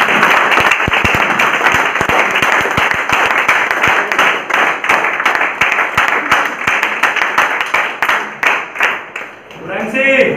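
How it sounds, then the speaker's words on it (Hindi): Loud, dense applause from an audience at a business seminar in India, continuous clapping that stays full for about ten seconds before thinning out at the end. "एक बार जबरदस्त तालियों के साथ में"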